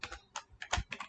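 Close, crisp keystrokes on a computer keyboard as 8051 microcontroller code is typed, about five quick clustered taps in a brisk irregular rhythm, with no talking.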